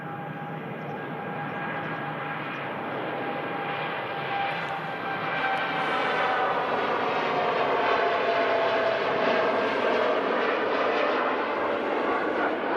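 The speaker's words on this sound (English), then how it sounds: "Here's a Dreamliner out to Montego Bay as well." A Boeing Dreamliner jet departs Manchester Airport bound for Montego Bay, giving a continuous broad engine roar that slowly swells louder over several seconds, heard from a distance with no talking.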